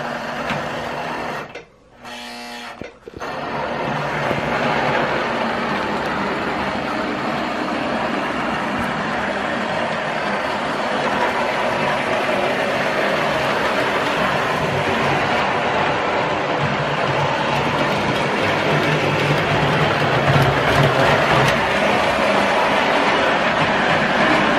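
A circa-1960 model electric train on old tubular track runs steadily, a continuous whirring rumble with faint rhythmic clicking, close by, starting after a brief pause.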